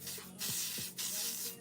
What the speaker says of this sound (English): you're going to spray the setting spray as far as you can